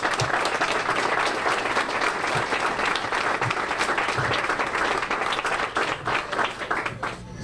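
Sustained applause from a crowd honoring a World War II veteran at a Chick-fil-A store opening in Springfield, Illinois, steady dense clapping throughout with no break.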